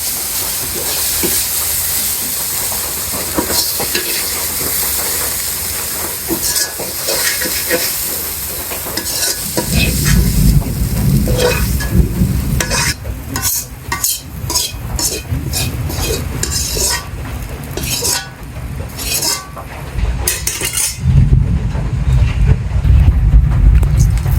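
Leafy saag frying in a pan, a loud continuous sizzle and hiss with repeated stirring scrapes and heavier low thumps of the pan partway through, close and without speech.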